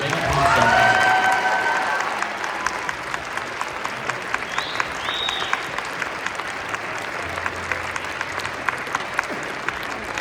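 Audience applause and some cheering for a school band at a final concert, a loud burst early that settles into scattered steady clapping with a few crowd voices.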